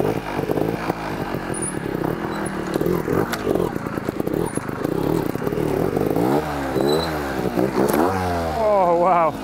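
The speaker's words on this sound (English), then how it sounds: "Here is a very difficult wheelie." A trials motorcycle engine revs and surges in rising and falling bursts as it is ridden through a difficult wheelie, with clattering mechanical noise, close and fairly loud.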